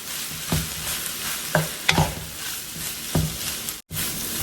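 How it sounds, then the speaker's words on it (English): Cooked rice tossed and fried in a hot skillet, giving a steady sizzle with several sharp scraping stirs and tosses at irregular intervals. "Go ahead and toss that with everything that's already in your skillet."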